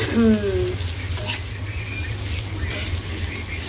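Teasel gourd (karkol) frying in a pan gives a steady close sizzle, with a brief clatter near the start and a low background hum underneath.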